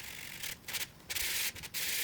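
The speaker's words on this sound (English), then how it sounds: "we're going to sand that back again with more sanding sponges." A sanding sponge rubs over a wooden globe in steady back-and-forth strokes, a soft, hissy scraping with a few brief pauses between passes, close and fairly quiet, with no talking.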